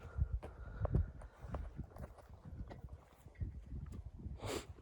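A calm horse's hooves clip-clop and shuffle at close range as it lifts a hind leg on request, giving a loose run of soft thuds and scrapes with a brief rustle near the end.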